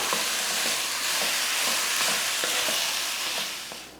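Cooked rice being stirred into a pan of lemon rice, a steady soft sizzle and hiss with repeated scraping strokes of the spoon, close and continuous, with no voices.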